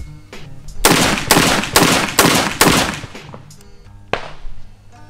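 A Genesis Arms GEN 12, an AR10-style semi-automatic 12 gauge shotgun, fires Winchester Super X shells in a quick string of loud, close blasts, around six evenly paced shots, then a pause and one more shot.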